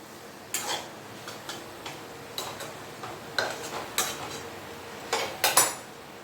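Eggplant posto is stirred in a pan, with a series of sharp spoon-on-metal clicks and scrapes at irregular intervals over a quiet background, close and moderately loud, growing denser toward the end.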